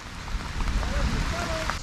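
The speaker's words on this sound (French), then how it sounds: "Oh, ça pleut ça là." Steady rain falls during a thunderstorm beside a river, a dense, even hiss of drops close by throughout the brief moment.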